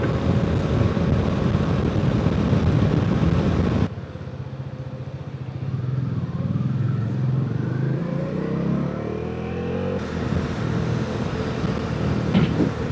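Bajaj Dominar 400 motorcycle cruising on a road, a steady loud engine drone and wind rush throughout, with the engine note rising and shifting midway as the rider changes speed.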